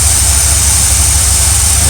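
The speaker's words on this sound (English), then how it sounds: "it's not idling as smooth as it was when it when we first started it" An RV engine idles rough at a high RPM, a loud, close, steady drone with heavy low rumble and a constant whining hiss, unbroken over a brief stretch.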